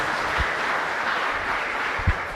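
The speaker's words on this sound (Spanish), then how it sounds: "Y un fuerte aplauso para toda la comunidad." Applause from a parish congregation at a live church service in Asunción, a steady broad crowd clapping that fills the whole moment, loud and continuous with a couple of heavier thumps.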